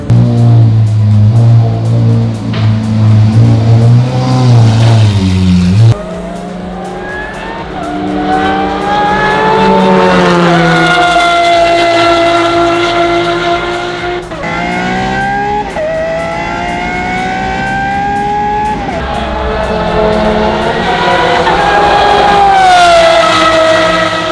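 A Radical race car engine warming up at Clark Speedway runs loudly and steadily, its pitch climbing and falling through repeated revs, close by with no talking.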